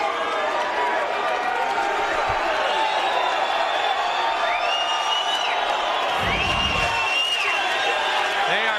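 A large fight-arena crowd applauds and cheers for Chuck Liddell after his bout with Vitor Belfort, a steady roar of clapping and whoops, with a commentator talking over it.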